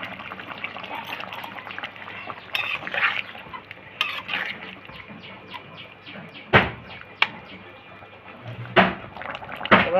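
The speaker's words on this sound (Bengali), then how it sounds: "পটল চিংড়িটা হয়ে আসছে, এবার চিংড়ি মাছটা দিয়ে দেবো।" Prawns dropped into a simmering pointed gourd curry: bubbling, sputtering liquid with a few sharp splashes and sizzles, the last of them near the end.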